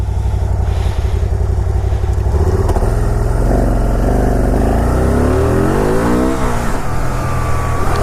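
A Can-Am RS-S three-wheeler engine revving hard while driving, loud and close, climbing through gears with steady high-rev drone and rising pitch sweeps.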